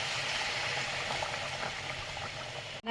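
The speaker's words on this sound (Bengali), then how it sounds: "এবারে এই ফুটন্ত জল আমি মাংসতে দেব।" Boiling water pours onto mutton in a pot as a steady, close bubbling rush that cuts off abruptly near the end.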